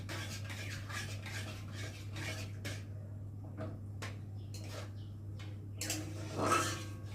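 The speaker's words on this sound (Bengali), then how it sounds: "দিয়ে একটু ভালো করে নাড়বো" Semolina halwa with cashews and raisins is stirred in a pan, giving soft repeated scraping and clinking of a spoon against metal over a steady low hum, with a brief louder clatter near the end.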